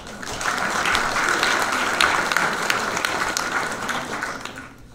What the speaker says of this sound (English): let's give them a final round of applause for their efforts